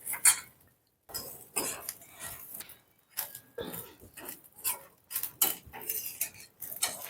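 Grated coconut dry-roasting in a pan for rice jaggery puttu, with a spatula scraping and clinking against the metal in irregular close bursts separated by brief quiet gaps.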